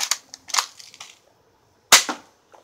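A BB gun fires two sharp cracks: a cluster of snappy pops first, then one louder, distinct shot about two seconds in, each fading quickly into quiet.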